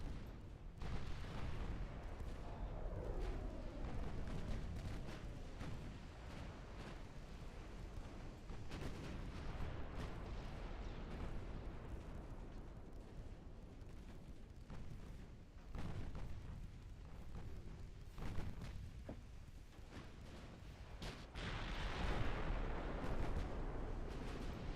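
Naval guns firing and shells striking an enemy destroyer in the Ultimate Admiral Dreadnoughts game, a dense, continuous rumble of booms and blasts that stays loud throughout, with no talk.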